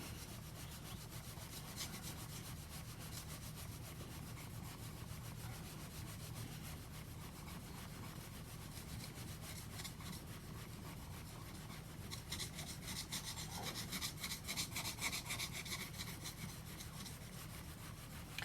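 A steel chisel's front bevel is rubbed back and forth on a sharpening stone, a quiet steady scraping and rasping that grows slightly louder near the end, with no voices.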